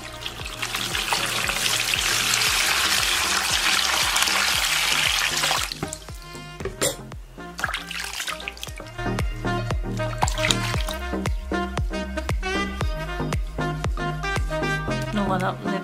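Running water rinsing dried product off the hair or skin, a steady broadband splash for the first few seconds that then cuts off, leaving background music.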